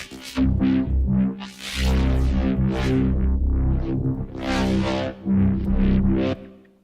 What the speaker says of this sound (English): I got this really cool neuro sound